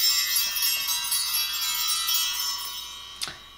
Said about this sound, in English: Ring the bells and create some sacred space.